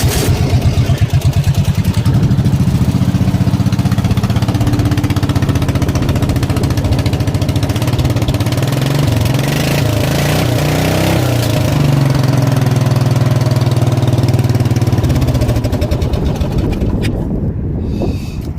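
Craftsman riding tractor engine fitted with a new exhaust runs loud and close, a rough, throbbing mid-pitched idle that holds steady for about fifteen seconds before dropping away, with wind buffeting the microphone.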